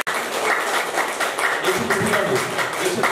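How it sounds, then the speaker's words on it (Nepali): A seated audience at the closing program of a yoga camp claps together in sustained, fairly loud applause with a dense even texture, while a voice carries on faintly underneath. "जोरदार ताली गर्छ।"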